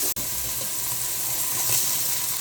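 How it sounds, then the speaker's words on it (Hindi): Garlic and ginger paste fries in a pan after onions, giving a steady, even sizzle and hiss close by, with a brief dropout near the start and no talk. "इस वक्त हम वहाँ पर लहसुन डालेंगे, लहसुन और अदरक का पेस्ट, उसको भी थोड़ा सा भूनेंगे अच्छी तरह"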